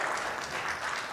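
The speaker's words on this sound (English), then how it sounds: "Can we clap for this man here?" An audience applauds a speaker at a professional development talk on agentic AI, a dense, steady burst of clapping from many hands that lasts about a second with no pause.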